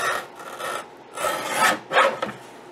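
Rough rasping strokes of a blade cutting through paper, in a few separate bursts with short pauses, close and fairly quiet.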